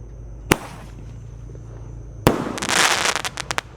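Roman candle fireworks, 1.2-inch size, firing outdoors: a sharp single pop, a pause, then a loud burst followed by a rapid crackling volley of shots, close and alone without talk.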